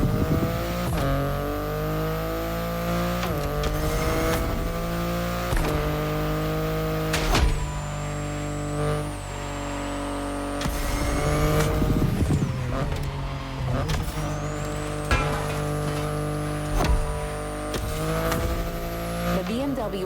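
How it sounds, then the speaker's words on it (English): A BMW i8 driven in The Crew Motorfest: a steady engine drone with shifting whine runs throughout, with occasional bursts and sweeps as it changes pitch, continuous and fairly loud beneath a game music-like bed. "The BMW i8 is a car that stands out from the crowds."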